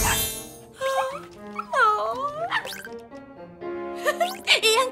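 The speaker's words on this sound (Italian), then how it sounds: "Casa dei sogni, potrei avere dei cagnolini, per favore?" Cartoon puppies barking and yipping in a children's animated show, a few short high yelps and whimpers close by, with a character's voice speaking between them.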